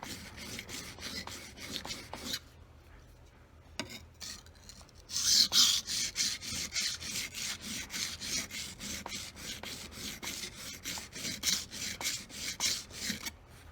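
A kitchen knife drawn back and forth across a wet whetstone, close and fairly quiet, making rhythmic gritty scraping strokes with a short pause early on before the strokes pick up again.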